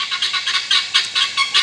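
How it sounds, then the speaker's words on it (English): Guinea fowl give a rapid series of harsh, rhythmic squawking calls, loud and fairly close, with no talking underneath. "Here comes the guineas."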